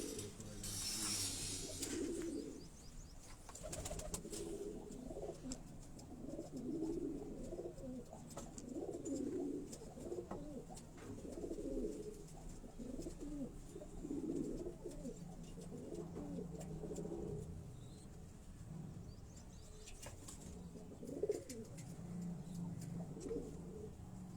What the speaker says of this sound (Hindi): अलमारी वाले ये जो कबूतर आपको दिखाए जा रहे हैं